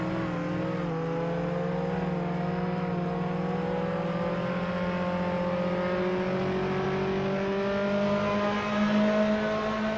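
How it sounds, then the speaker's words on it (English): A banana-shaped car driven in a video game, its engine giving a steady sustained drone with harmonics that slowly rise in pitch as it accelerates, loud and continuous with no talk over it. "Gameplay footage of the banana car."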